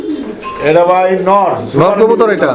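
A lone male fancy pigeon at a pigeon farm coos in loud, rolling bursts close by, mixed with people talking.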